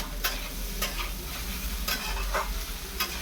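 Vegetables with potato and okra being sautéed and stirred in a pan, a steady close sizzle under repeated scraping strokes of a spatula at a regular pace, with no voices.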